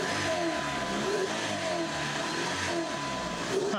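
A car engine that has sat unused for a long time idles roughly, a steady mid-pitched drone with slight uneven pulsing held at close range throughout.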